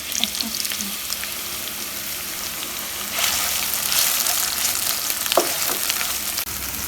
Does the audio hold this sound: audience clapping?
no